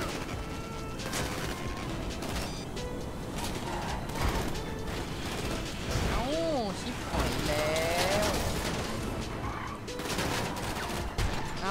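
Bursts of automatic gunfire in GTA V Online during a special vehicle mission with a Ruiner/Voltic-style rocket car, rattling repeatedly amid engine and game noise while someone talks over it.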